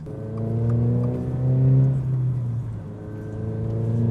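Subaru BRZ / Toyota GR86 sports car, lowered, accelerating hard with a steady mid-pitched engine note rising through revs, close and loud with no talking.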